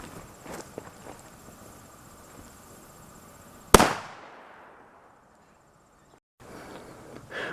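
A firecracker from a US versus France firecracker comparison, lit on the ground, bursts with a single sharp, loud bang after quiet rustling and footsteps, followed by a fading echo and near silence.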